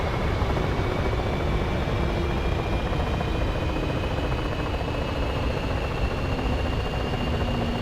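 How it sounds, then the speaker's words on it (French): Jet engine roar from an F-15 fighter preparing to take off at an air base, a steady distant rumble with a faint rising whine, continuous and unbroken. "Je sais pas si c'est pas un F-15 qui va décoller là."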